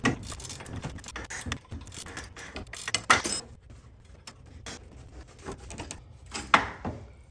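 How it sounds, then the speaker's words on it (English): Metal clinks and rattles from a nut and bolt being worked free on the upper front control arm of a Club Car DS golf cart, with close irregular clanks and a few sharper knocks. "this is the last nut and bolt we need to remove right here. This is the upper front control arm bolt nut"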